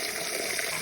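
Water runs steadily from a tap into a pet's water bowl, a continuous close splashing hiss with no talking.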